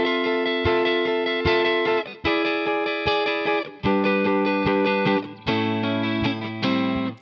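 Electric guitar with effects playing the chord changes of a song, bright sustained chords strummed in steady repeating bursts with sharp metronome clicks marking the beat, loud and close with no talking.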